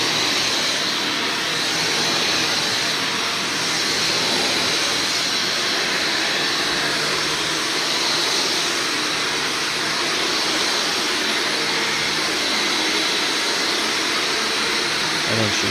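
A vacuum cleaner drones loud and unbroken over the carpet of a den used as an office, a steady close whoosh with no talk.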